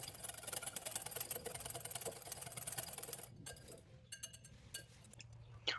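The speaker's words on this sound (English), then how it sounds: "Now we can start to whisk our egg whites until they become a foamy," Egg whites whisked until foamy for chile rellenos: a steady, fairly loud whirring drone runs for about three seconds, then cuts off, leaving a few scattered clinks and light handling sounds.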